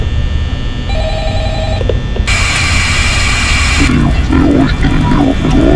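A garbled phone call plays in the Five Nights at Freddy's video game: a loud, distorted voice warbles through crackling static, with tonal blips and a sudden burst of harsh noise in the middle.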